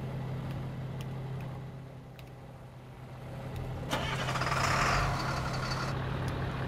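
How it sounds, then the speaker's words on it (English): Engine of a Chevrolet Silverado dually pickup in the Farming Simulator game idles as a steady low hum, then revs up louder partway through before settling back, with no talk over it. "Start this truck up."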